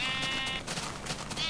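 Sheep in the Minecraft video game bleat in a wavering, nasal call, heard up close and loud, with a second bleat starting as the first trails off.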